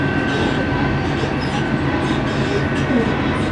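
An Alaska Railroad train rumbles steadily close by, a continuous low rolling roar with faint wheel noise throughout.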